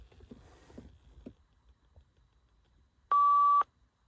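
A single steady electronic beep from a Mitsubishi 3000GT factory car phone entering airplane mode sounds for about half a second, following a stretch of faint knocks and rustling.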